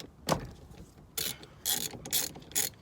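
A ratchet loosening the nut on a car steering wheel, heard as one short click followed by four quick bursts of ratcheting, close up and moderately loud with no talking.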